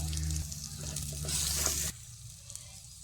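Chopped green chillies are sautéed in a pan for a Kerala red fish curry, making a soft, fairly faint sizzle that quietens noticeably after about two seconds.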